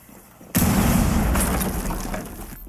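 A Thermite breaching charge in Rainbow Six Siege goes off with a sudden loud boom, followed by a long, dense roar and hiss that slowly fades.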